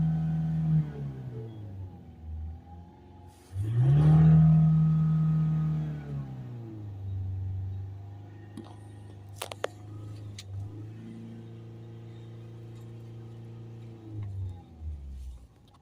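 Ford Transit Custom 2.2 diesel van engine idling and revving in short bursts, with a clear rise in pitch and loudness, then settling back to a steady close idle hum, occasional clicks between.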